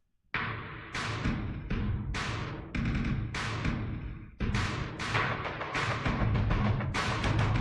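Percussion loops enter one after another, stacking into a dense, steady groove of punchy hits with bright, crisp tops, played loud and close.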